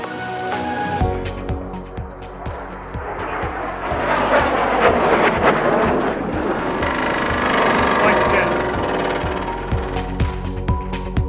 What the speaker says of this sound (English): time to cut the hole. It's only the second time we've used a jigsaw